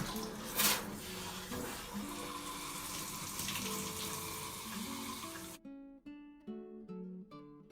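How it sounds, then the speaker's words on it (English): Water poured and splashing over a child's hair during a rinse while detangling, a close and fairly soft gushing stream that cuts off abruptly near the end, leaving quiet background music. "I'm gonna go ahead and rinse again to get her more water"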